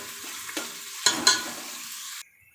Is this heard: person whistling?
no